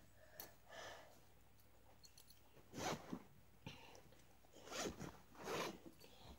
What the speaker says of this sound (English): So, let's open the pocket. Where is the zip?